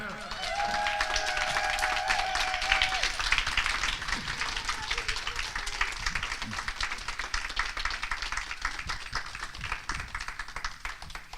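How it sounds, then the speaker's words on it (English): An audience at a talk on visibility claps in a sustained burst of applause, dense and even at first and slowly thinning, with a few voices underneath. "Let's give a round of applause"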